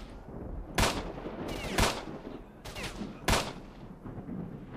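Gunfire from a weapon in S.T.A.L.K.E.R.: Shadow of Chernobyl, with four sharp, loud single shots spaced irregularly over a steady background rumble.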